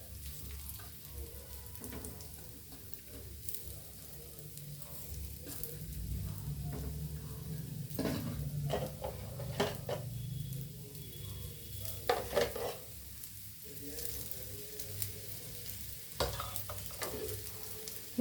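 Rava-coated potato pieces are laid into hot oil to fry, a soft continuous sizzle with occasional light scrapes and taps of placement, quiet and close with no talk.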